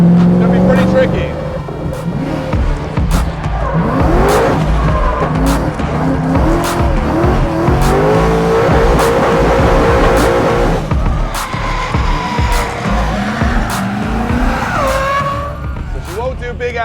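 A Ford Mustang is thrown aggressively into a drift, engine roaring hard while tires squeal and skid continuously, loud and close, with a voice talking over the noise.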